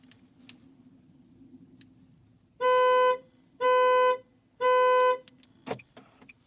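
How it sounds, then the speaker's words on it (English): A 2020 Nissan Kicks horn, set off by the key fob's panic button, honks three evenly spaced, fairly thin blasts, each about half a second long, over quiet outdoor background. "Let's try out the panic button so we can hear the horn real quick."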